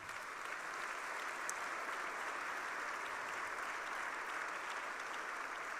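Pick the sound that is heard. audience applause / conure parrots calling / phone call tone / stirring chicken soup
audience applause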